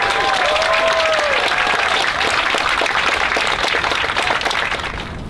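An audience at a white coat ceremony for an inaugural physician assistant class gives a dense, sustained round of applause that holds steady and then begins to fade.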